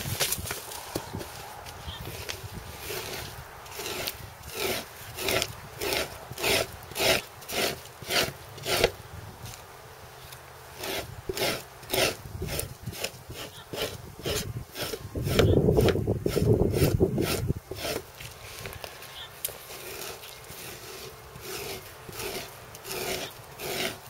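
A rawhide soaked in alkali is scraped in steady rhythmic strokes, a long series of rasping pulls repeating close by, with a louder, fuller rubbing burst partway through.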